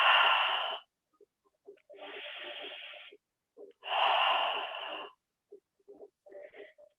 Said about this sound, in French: Expirez en ouvrant la bouche.